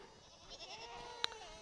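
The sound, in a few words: goats bleating at feeding time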